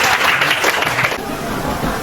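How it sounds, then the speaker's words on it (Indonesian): Students in a classroom clap for about a second in a brief, moderately loud patter that quickly fades into room noise. "tepuk tangan untuk orang-orang"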